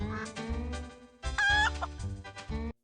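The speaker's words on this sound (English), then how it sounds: "farmyard with clucking chickens" Chickens cluck in quick, choppy bursts, fairly close, with a brief higher squawk in the middle, in the farmyard level of the video game Elmo's Letter Adventure; game-like and without talk.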